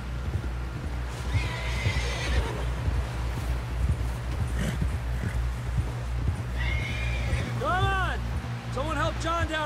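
A horse in the Red Dead Redemption 2 video game clip-clops along at a steady pace and gives two loud, close whinnies near the end, under urgent voices talking.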